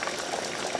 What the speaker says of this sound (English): The potatoes, they're boiling